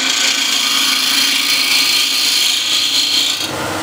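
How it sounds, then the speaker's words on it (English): A spindle gouge trues a spinning wooden workpiece on a lathe at 1600 RPM, making a continuous, close, loud hissing scrape that eases off just before the end. "So to just true this up, I'll use a spindle gouge."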